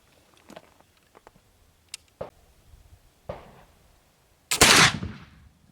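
A single loud black powder shot from a Dixie mountain muzzleloader rifle rings out near the end, a sharp broadband blast with a short decaying tail, preceded by faint scattered clicks and handling taps.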